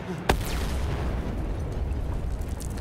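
A grenade goes off in Wolfenstein: The New Order, one sharp close blast followed by a rumbling low roar that lingers under steady game noise without fading.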